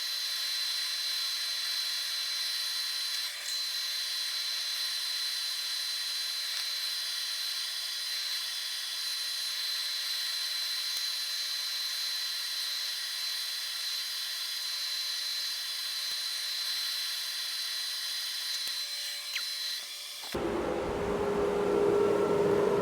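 A wood lathe spins a cracked cherry bowl while sanding sealer is applied, giving a steady, fairly quiet high motor whine for about twenty seconds before it cuts off abruptly into a different, lower room background.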